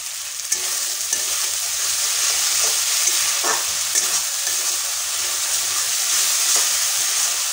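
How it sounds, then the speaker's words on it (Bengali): Cumin and dried chili powder sautéing in hot oil give a loud, continuous frying sizzle close by, with occasional soft scrapes of a spoon stirring through the spices and no voices. "মশলাটা কষানো হয়ে গেছে"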